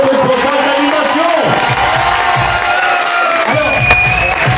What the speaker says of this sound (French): Voilà, on l'applaudit très fort, c'est Julien, votre responsable d'animation.